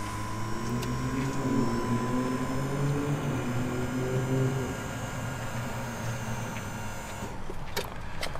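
A Niesmann+Bischoff Arto motorhome's hydraulic levelling system hums and whines steadily with shifting pitch as it moves the vehicle, then quiets toward the end, leaving a few faint clicks.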